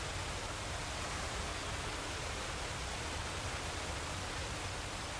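A video game waterfall near a cliff gives a steady, dense rush of broadband water noise, even and continuous throughout, with no voices.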